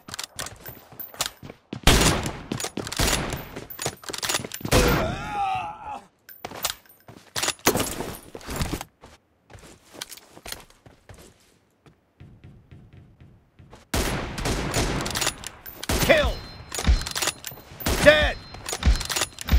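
Bursts of gunfire in PUBG Mobile team deathmatch, sharp repeated shots in clusters separated by quiet gaps, loud and close, with a brief voice.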